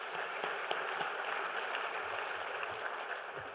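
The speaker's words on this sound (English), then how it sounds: "Let's give them another round of applause." An audience at a regional chamber of commerce annual meeting claps in an even, sustained round of applause, heard at a distance and fairly faint, with no voices over it.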